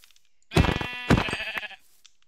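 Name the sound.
sheep bleating in a video game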